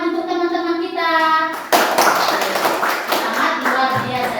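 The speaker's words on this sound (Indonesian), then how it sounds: "Mari kita beri tepuk tangan untuk teman-teman kita." A class of children in a classroom breaks into clapping after someone speaks briefly, the applause close and steady for about three seconds.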